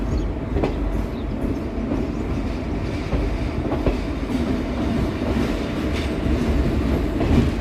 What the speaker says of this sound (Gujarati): ને આપણે અરાઇવલ કરી રહ્યા છીએ દહીસરા જંકશન.